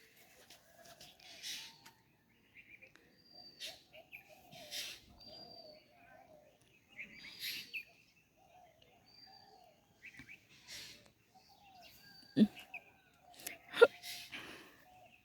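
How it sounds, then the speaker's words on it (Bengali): On a cold, foggy winter morning a dove calls and small birds chirp in short, scattered bursts, with quiet gaps between them and a few faint human sounds. "এই যে ঘুঘু পাখি ডাকতেছে দেখছেন সকালের যে একটা কিচিমিচি আওয়াজ পাখির শুনেন"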